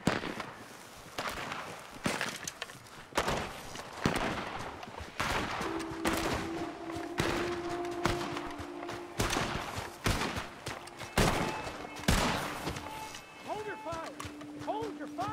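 Gunfire in the video game Red Dead Redemption 2: sharp repeated shots and bursts crack out irregularly throughout, mixed with game sounds and tonal effects, while voices speak between the shots.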